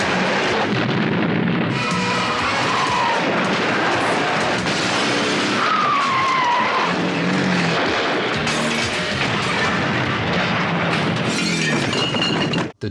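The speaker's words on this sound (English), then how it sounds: "Then there's a car chase, some gunfire, some shenanigans." Car chase with gunfire from the action movie Laser Mission: loud, continuous roaring engines and tire noise, broken by sharp crashes, shattering impacts and blast-like bursts. No voices are heard.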